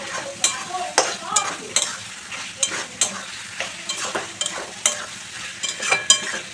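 Slit green chillies frying with cooked chicken in a pan, a crackling sizzle under repeated rhythmic stirring strokes of a spoon, close and fairly loud.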